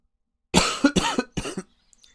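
A person coughs several times in a short, harsh burst, a run of three or four rough coughs close to the mic, then quiet.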